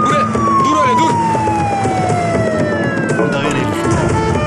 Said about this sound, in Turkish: geldi ambulans geldi